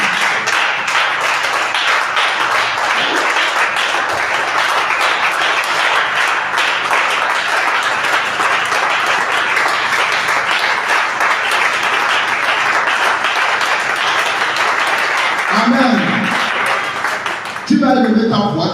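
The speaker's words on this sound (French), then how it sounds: "Acclame très très fort le Seigneur Jésus." A church congregation claps and cheers for Jesus in sustained, dense applause mixed with shouting voices, fading near the end as a voice returns.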